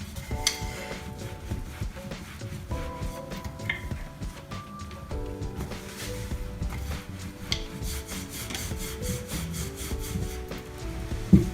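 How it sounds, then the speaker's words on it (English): Paratha dough dusted in dry flour is rolled out on a board, a soft steady rubbing and scraping of the rolling pin in back-and-forth strokes, close and fairly quiet, with faint tones in the background. "Dab it in some dry flour and roll it out."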